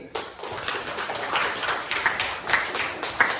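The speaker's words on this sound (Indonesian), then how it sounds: "biar rame, tepuk tangan lagi" Pupils clap during a classroom lesson that uses a clapping game. Moderately loud hand claps come in uneven bursts for over three seconds, with a few sharper accents near the end.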